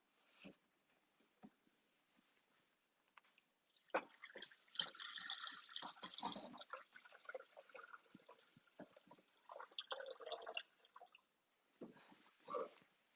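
Water trickles and splashes faintly into a Thermomix bowl, an uneven, soft pouring with scattered drips and gurgles over several seconds, tapering off near the end.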